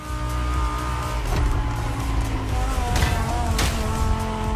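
Lamborghini hypercar with performance tuning driving in the racing game Forza Motorsport, a loud sustained engine drone with rising and falling pitch and brief bursts, continuous throughout.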